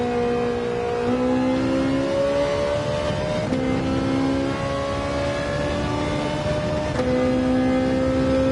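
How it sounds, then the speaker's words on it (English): Race car engine in Gran Turismo 7 drones steadily, its pitch climbing under throttle, dropping as the driver eases off, then climbing again several times, loud and continuous with no talk. "Saw that I was going to go out, so I eased up on the throttle."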